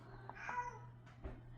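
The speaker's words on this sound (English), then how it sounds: "I'm sorry about my cat there" A pet cat that wants to be let outside meows indoors, a few short, fairly faint calls in a quiet room with a low steady hum underneath.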